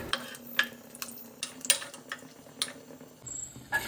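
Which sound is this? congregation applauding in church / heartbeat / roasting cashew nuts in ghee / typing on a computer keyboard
roasting cashew nuts in ghee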